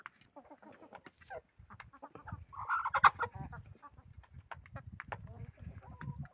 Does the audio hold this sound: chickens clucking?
yes